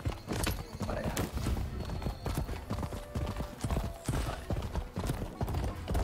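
Horse hooves gallop in a steady, rapid clip-clop rhythm during Rise of the Ronin gameplay, continuous and close over game background sounds.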